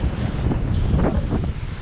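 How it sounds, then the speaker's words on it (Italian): Wind gusting at the seaside, a steady low rumble buffeting the microphone with a faint wash of surf underneath, loud and continuous throughout. "Ora si sta alzando il vento"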